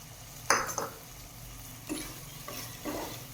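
A few scraping stirs and clinks of a utensil in a pan of turkey berry thokku over a low simmering sizzle, spaced irregularly, with no talking.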